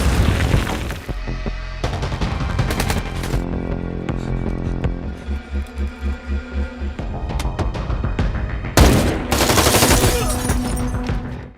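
Bursts of gunfire and heavy booms crash through a dramatic film soundtrack as rifles fire at soldiers, with rapid repeated shots, a pulsing low rumble, and a loud blast near the end.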